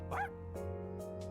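Koromaru, the dog in the video game Persona 3 Reload, gives a short yip-like bark followed by a few softer, fainter whimpering barks over a steady game music drone.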